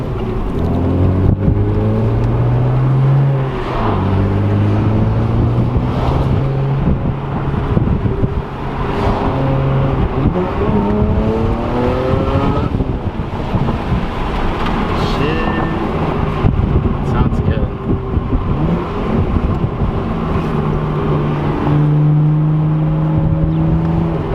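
A BMW with the N54 engine and a performance exhaust revs and accelerates hard, its loud exhaust note sweeping up and down through the rev range over continuous wind noise, with faint talk in places.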